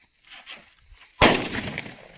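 One Diwali firecracker bursts with a single sharp, loud bang that decays into a rough rumble, after a few faint sounds before it.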